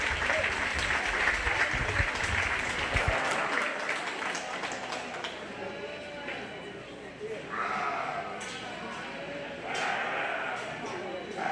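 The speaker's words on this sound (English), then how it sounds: "give all three of these kiddos a big round of applause" Audience applause at a 4-H/FFA sheep show ring, a steady broad wash of clapping that fades slightly midway, with sheep bleating and a voice speaking over it.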